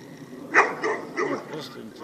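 Dog guarding its food gives a few short, sharp barks and yips at close range, spaced irregularly over two seconds with some voiced grumbling between them.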